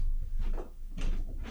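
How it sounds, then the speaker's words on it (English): A room door is pushed shut indoors, giving a soft sliding sweep followed by a dull closing bump, fairly close and with no talking. "let me close my door real quick"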